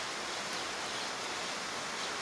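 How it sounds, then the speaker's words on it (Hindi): Steady rain falling across an ashram grounds, heard from under a shed as an even, dense hiss that stays constant and moderately loud throughout with no distinct drops or pauses. "बारिश शुरू है अभी।"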